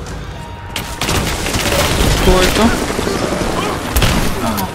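Gunfire and booms from shooting bandits in Rise of the Tomb Raider crackle in a dense, loud burst of repeated shots and impacts, with someone speaking briefly over the game sound.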